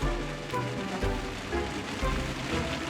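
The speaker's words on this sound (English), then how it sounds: "oh my God, the rain is getting harder" Heavy rain pours down steadily, a dense, loud wash of drops drumming on surfaces throughout, with low thumping tones pulsing underneath at roughly half-second intervals.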